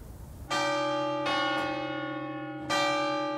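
Church bells ring in the wooden-framed belfry of the Église Saint-Georges in Vesoul, France: loud, close metallic strikes with long humming resonance, three clear blows a second or so apart, each ringing on and overlapping the next.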